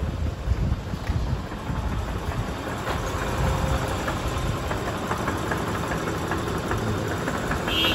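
A Fuso Fighter diesel truck engine idles steadily nearby, a low rumbling chug with faint knocking that holds constant throughout, no voices.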